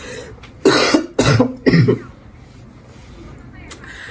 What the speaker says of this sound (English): I have terrible dry cough, and it's not even funny.